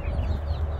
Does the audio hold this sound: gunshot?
no